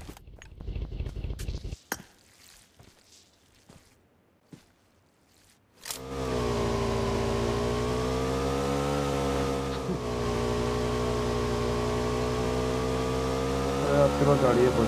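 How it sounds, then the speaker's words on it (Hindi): A motorbike engine in a battle royale video game starts up loudly about six seconds in and then drones steadily with slight pitch swells, following a quieter opening of scattered clicks and taps. "मुझे एक बग्गी मिलती है और बाइक दिख जाती है, तो मैं प्रेफर करता हूँ बाइक से जाने के लिए"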